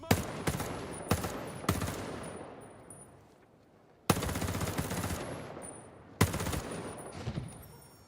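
Bursts of automatic fire from a machine gun with a 100-round magazine in the video game Ghost Recon Breakpoint: four loud volleys of rapid shots, each decaying into an echoing tail before the next.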